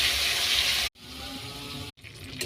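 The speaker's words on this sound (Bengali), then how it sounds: "চিড়েটা জল দিয়ে ভিজিয়ে নিচ্ছি।" Water gushes steadily from a tap to soak flattened rice (chira) in a home kitchen, a loud continuous pour broken by two brief pauses.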